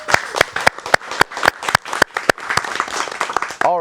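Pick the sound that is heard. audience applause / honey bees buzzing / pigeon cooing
audience applause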